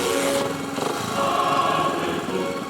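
A Honda motorcycle engine starts and runs at a vintage enduro, giving a steady mechanical drone after a brief uneven start, heard alone and fairly close.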